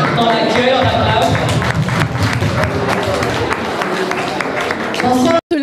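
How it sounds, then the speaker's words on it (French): An audience breaks into steady, dense applause to welcome a speaker at a Burundian independence anniversary celebration in Canada. The clapping is loud and close and continues throughout, with crowd voices mixed in. "On l'accueille, on l'applaudit."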